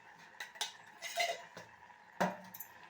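A spoon stirs vegetable kootu in a metal pot, with a few scattered scrapes and light clinks of metal on metal. The strokes are close but faint, with quiet gaps between them, and no one speaks.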